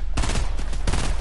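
Rapid bursts of gunfire during a Fortnite in-game event, dense and loud, with two or three volleys crowding together in quick succession.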